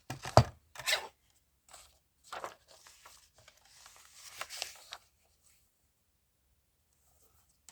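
Paper is trimmed in a craft session, with a few sharp close cutting snips and crisp rustles followed by a softer stretch of scraping and shuffling, then quiet.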